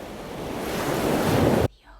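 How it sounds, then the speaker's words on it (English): Ocean waves wash in as a loud, steady roar of surf that swells over two seconds and then cuts off abruptly, leaving near silence, with no one speaking. "The ocean."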